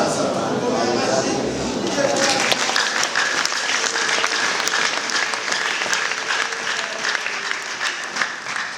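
A church congregation breaks into sustained, loud applause, a dense wash of clapping that fills the whole stretch, with voices and faint tones running underneath.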